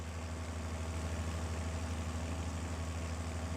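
A tractor engine idling in Farming Simulator 22, a steady low rumbling drone that holds constant and unbroken throughout, with no talking.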